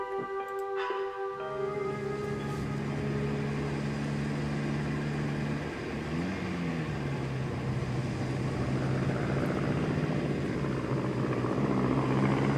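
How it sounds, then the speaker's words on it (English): An early aeroplane drones across a bare moor in a 1912 setting from The 39 Steps, a loud, continuous engine roar that swells and bends in pitch as it passes, following a few brief musical notes. "On the bare moor, I was at the aeroplane's mercy."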